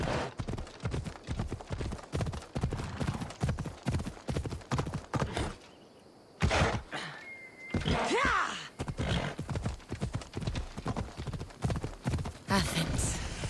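Horse hooves galloping in Assassin's Creed Odyssey, a rapid loud clip-clop rhythm that stops briefly, with a whinny, then resumes at full pace; someone speaks briefly.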